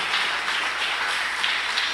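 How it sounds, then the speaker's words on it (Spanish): A congregation in a church applauds, steady dense clapping filling the space at moderate loudness with no talking over it. "Dale un fuerte aplauso a Él."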